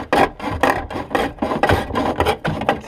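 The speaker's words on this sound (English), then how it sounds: "Have to cut it from behind. So what they advise is just a hacksaw blade." A bare hacksaw blade rasps through a 2015 Ram 1500 EcoDiesel fuel door from behind, about eight loud close back-and-forth strokes in steady rhythm, with no talking.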